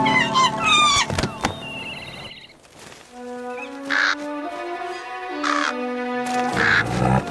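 A cartoon crow caws in three drawn-out, nasal calls, loud and clear, following a clatter of busy cartoon sound effects, with no speech over them.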